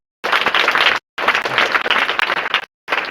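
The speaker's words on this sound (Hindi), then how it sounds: "एक बार जोरदार ताली बजाइए" An audience at a school awareness event bursts into loud, dense applause in several close bursts separated by brief abrupt silences.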